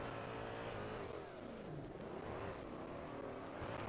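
Car engine revving hard at around 400 horsepower with a blow-off valve, a loud, continuous roar that rises and falls in pitch for several seconds, close and dense with no clear speech.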